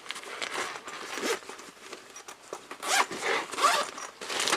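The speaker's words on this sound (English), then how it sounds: "you unzip this pouch, drop your controllers in there." The zipper on the pouch of a console transport bag is pulled open in several quick, close rasping strokes, with brief pauses between pulls. No one speaks.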